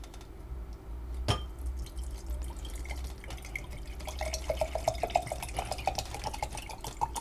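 Water is poured into a military ration pack bag, starting with a sharp tap and then running on as uneven trickles and drips that grow busier, close and fairly quiet.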